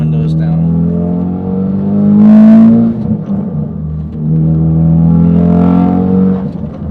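A 2017 Ford Focus RS engine and exhaust rev hard at full boost, heard from inside the cabin with the windows up, rising in two loud, sustained surges of rumbling, droning exhaust note.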